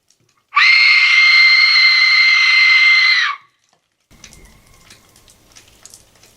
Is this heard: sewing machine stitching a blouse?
no